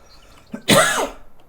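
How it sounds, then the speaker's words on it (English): A single harsh, close cough with a raspy throat-clearing quality, loud and alone against a quiet background. "I've got a bit of a cough thing going on at the moment."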